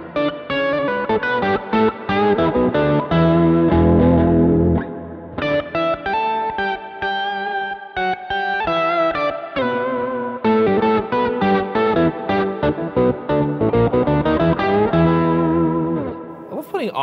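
Electric guitar with a gritty, driven tone plays a busy run of notes, each trailed by echoing repeats and a shimmering wash, steady and loud throughout.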